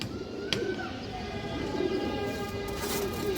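Pakistani pigeons in a loft coo softly and steadily, a low murmuring call repeated close by over faint background hiss, with a brief sharp click early on.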